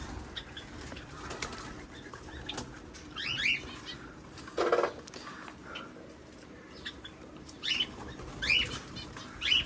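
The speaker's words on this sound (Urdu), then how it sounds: "یہ دیکھو ہمارا پرندے." Pet birds kept in an enclosure with a rooster flap their wings in several bursts and chirp and coo nearby, with bright calls scattered over a busy background.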